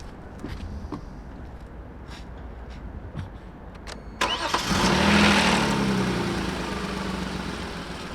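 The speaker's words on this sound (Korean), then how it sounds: "요놈 엔진 소리 한번 들어보시죠" A few clicks and faint rustling, then a Hyundai Genesis BH330 gasoline sedan engine cranks and starts, revs briefly, and settles into a smooth, steady idle close by.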